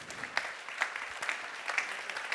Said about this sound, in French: Jérôme Brulon, on peut l'applaudir également